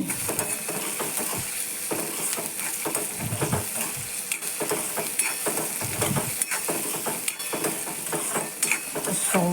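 Pigeon peas (tuvar) with onion tempering sizzle steadily in a hot pan, with repeated scraping and stirring strokes of a spoon against the metal throughout.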